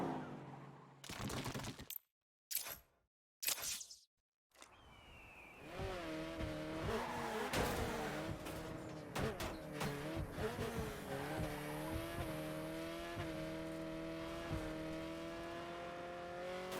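A car in Saints Row drives fast while its engine drones steadily. Sharp bursts and tire squeals cut in and out early, then the engine note rises and falls with repeated squealing skids.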